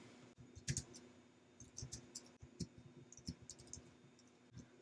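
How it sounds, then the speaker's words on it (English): Typing text on a computer keyboard, faint irregular clicks and taps in short bursts with small pauses, close by and quiet. "So here I'm just basically going to type in my text"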